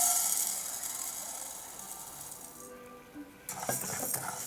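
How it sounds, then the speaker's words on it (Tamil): White urad dal dry roasting in a pan gives a steady bright hiss and faint rattle, then a brief clinking scrape of a utensil stirring toward the end. "அடுப்பில் இப்படி ஒரு பேன் வச்சுட்டு பேன் சூடானதுக்கப்புறம் 150 கிராம் வெள்ளை உளுந்து வந்து வறுத்து எடுத்துக்கலாம்."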